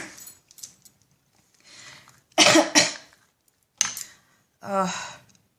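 Several short, harsh human coughs come in separate bursts with quiet gaps between them, close and fairly loud.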